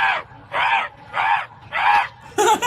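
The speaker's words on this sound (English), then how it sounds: "It's truly fascinating to witness how these crows promptly respond to his calls." Crows answering a man's calls with four loud, harsh caws in a steady rhythm, each about a third of a second long and evenly spaced, followed by a brighter, noisier call at the end.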